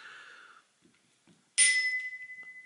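A 1990s bicycle bell with a plastic base, fitted with a bottom section from an identical bell, is struck once and rings out in a bright, sustained, slowly fading ding, close by, after a faint hum and a few small handling clicks.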